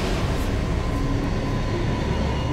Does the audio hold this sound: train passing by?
yes